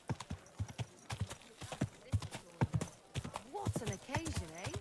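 A horse in the video game Kingdom Come Deliverance 2 walks with close, steady clip-clop hoofbeats and then gives a low whinnying neigh, while someone speaks over the sounds.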